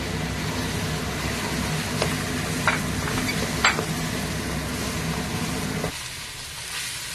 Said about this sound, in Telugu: బఠానీ కూడా వేగనిద్దాము కాసేపు